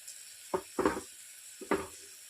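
Khichdi ingredients being fried with salt in a home kitchen pan, three short sizzling bursts as the mix is stirred, close and fairly quiet with no talk.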